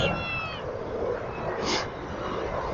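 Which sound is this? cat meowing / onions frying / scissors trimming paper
cat meowing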